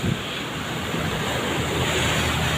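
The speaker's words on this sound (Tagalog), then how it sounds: "May persa pa naman yung mga alon sa ngayon guys." Strong sea waves driven by a typhoon and monsoon winds surge and crash continuously along a damaged coastal road in Iloilo, a loud, steady roar of surf mixed with wind noise and no voices.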